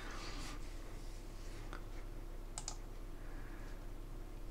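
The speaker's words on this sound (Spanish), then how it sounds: "oprimiendo la tecla Control del teclado y le doy clic encima" Faint computer keyboard clicks and a mouse click sound in a quiet room over a low steady hum, a few scattered taps with a crisper double click near the middle.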